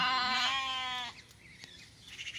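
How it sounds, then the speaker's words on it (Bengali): A sheep lets out one loud, close, wavering bleat that lasts about a second while grazing on grass, followed by quiet ambient noise with faint soft thuds. "ভেড়াগুলো ঘাস খাচ্ছে"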